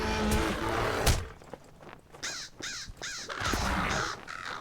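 Crows caw repeatedly in Lord of the Rings Online, several harsh calls in quick succession over a low ambient game background, fairly close and moderately loud.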